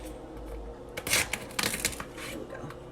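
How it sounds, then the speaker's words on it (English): A sharp knife cracks and crunches through a lobster tail shell in two short bursts of brittle crackling, up close. "So let me see if I can cut it from this end."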